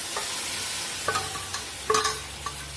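Dal tipped into a hot pan of tempered spices for a drumstick dal dish and stirred, with a steady low sizzle and a few sharp clinks and scrapes of the spoon against the pan.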